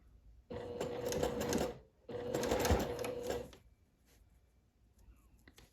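A sewing machine stitches rickrack onto fabric for a pair of shorts, running in two steady close bursts of about a second and a half each, then stopping to near quiet.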